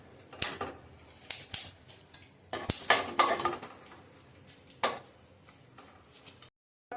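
A spoon scrapes and stirs seeds roasting in ghee in a pan over low heat, with sharp intermittent clinks and scrapes against a soft sizzle, then a brief silence at the end.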